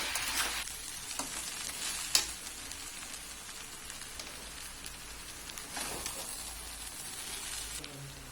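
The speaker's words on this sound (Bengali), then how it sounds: "ভেজে রাখা বাঁধাকপি দিয়ে ভালোভাবে মিশিয়ে নেব।" Noodles tossed with fried cabbage hiss softly in a pan, a steady low sizzle with occasional scrapes and stirring strokes, fairly quiet throughout.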